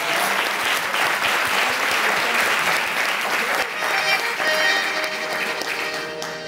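Audience applause during a televised Colombian composers' festival tribute, sustained crowd clapping that holds strong before music begins to emerge underneath near the end.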